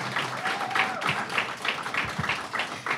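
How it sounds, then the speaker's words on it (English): An audience at a talk applauds, a modest round of clapping with a few distinct claps standing out, fairly distant, with a faint tone briefly heard. "can we all give them a round of applause?"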